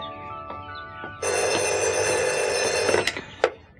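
A telephone bell rings in one long, loud, continuous trill, then cuts off with a couple of clicks as the receiver is picked up.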